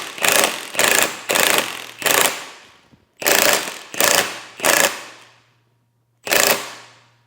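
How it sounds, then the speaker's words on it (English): An end bushing being pressed into a BMW E30 Alpina B6 2.8 with a three-jaw puller, heard as eight sharp, loud, rattling mechanical bursts, each under a second, separated by short pauses and one longer gap. "Now we're gonna set up the 3-jaw puller, and now we just basically press it in."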